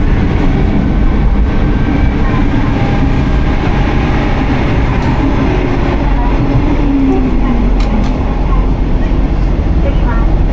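Steady loud rumble and rattle of a moving train heading to Kumamoto, Japan, heard from inside the carriage, continuous throughout with faint clicks and no clear voices.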